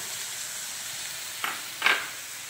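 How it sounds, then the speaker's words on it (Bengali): Boiled potatoes drop into a spice mixture of coriander-cumin powder cooked down with a little water, under a steady soft sizzle, with two brief louder hissing splashes as they hit the pan. "এবার দিয়ে দিলাম সিদ্ধ করে রাখা আলু।"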